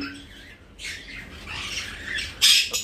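A budgerigar whistles and squawks in a cage, giving a few short, bright, fairly close chirping bursts with the loudest near the end.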